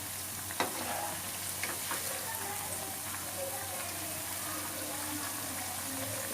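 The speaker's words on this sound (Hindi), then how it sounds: "इसको गोल्डन ब्राउन होने तक हम डीप फ्राई करेंगे।" Potato pieces deep-frying in hot oil for a Navratri fasting snack, a steady dense sizzle with faint crackles and occasional soft utensil clinks, close and continuous with no talk.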